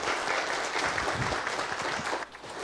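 A church congregation claps at an ordination service for elders, ordained deacons and deaconesses, steady dense applause filling the whole stretch and easing slightly near the end, with no talking over it.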